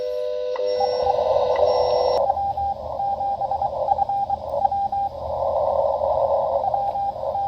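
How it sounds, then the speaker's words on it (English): Morse code CW tones come through on a Xiegu G90 ham radio receiver, a steady stream of beeps over constant hiss, clear and fairly strong with no voices. "this will also decode fairly strong Morse code signals, or CW"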